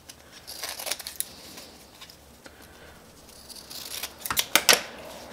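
Old sandpaper being snipped into small pieces for sanding wood lathe turnings, with faint scattered cutting snips over a quiet room that end in a quick cluster of sharper crisp cuts.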